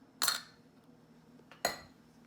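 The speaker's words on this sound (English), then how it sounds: "we're just going to mix all that together" Two short, separated bursts of a utensil clinking and scraping against a bowl while devilled egg filling with vinegar, sugar, Worcestershire sauce, salt and pepper is mixed, close and fairly quiet, with no talking.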